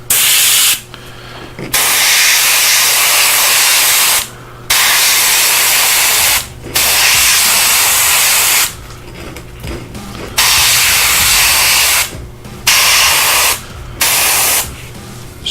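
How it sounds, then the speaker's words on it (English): Airbrush spraying paint onto miniature bases at 20 psi, a steady close hiss in repeated bursts of one to three seconds separated by short pauses, with a faint low hum underneath. "Pray your airbrush is working."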